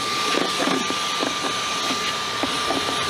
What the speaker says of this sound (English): I gotta vacuum all the fur.